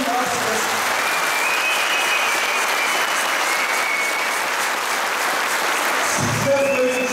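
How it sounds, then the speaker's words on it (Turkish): Audience at a Kayseri Caucasian association's season-finale dance show applauds in a loud, sustained, even wash of clapping, with a few thin tonal cries or whistles and some voices mixed in. "siz değerli tüm seyircilerimizden büyük bir alkış istiyorum."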